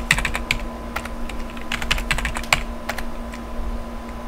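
A password is typed on a computer keyboard during a Linux setup in Windows, producing a quick, close run of light key clicks with a few sharper taps over a low background hum.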